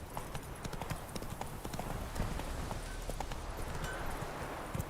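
Horse hooves clip-clopping at a steady trot in The Witcher 3 video game, a quiet, continuous run of soft hoofbeats over low ambient game sound.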